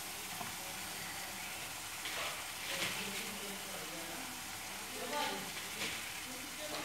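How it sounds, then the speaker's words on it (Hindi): Chicken pieces fry in a pan with carrots and cabbage, giving a steady close sizzle and hiss with occasional scraping stirs that swell and fade throughout. "अब चिकन को करेंगे फ्राई। चिकन को इतना फ्राई करेंगे इसका कलर चेंज होने तक।"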